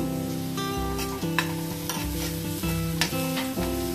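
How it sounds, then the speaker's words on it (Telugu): Onions frying with salt in a pan, a steady sizzle under a sustained tonal hum, with several sharp clinks and scrapes of a spoon stirring at irregular intervals. "ఆనియన్స్ వేగనిద్దాం."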